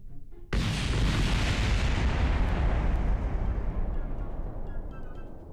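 Solid rocket boosters explode in the Kerbal Space Program video game: a sudden sharp blast erupts after a brief quiet lead-in, then a dense rumbling roar slowly fades over several seconds.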